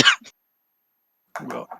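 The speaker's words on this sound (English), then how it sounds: "Sorry, I just coughed my lungs up." A single harsh cough bursts out at the start, followed by a short throat noise, a long silence, and then a few muffled vocal sounds close to the microphone.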